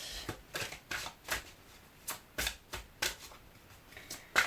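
Tarot cards being shuffled by hand: about a dozen soft, riffling bursts at an irregular rhythm, close and fairly quiet, with no speech.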